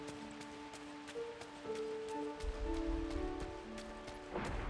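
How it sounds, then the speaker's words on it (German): Steady rain falling in the video game Disney Dreamlight Valley, a soft continuous patter behind light musical tones, with no talking. "Denn es regnet, wie ihr sehen könnt."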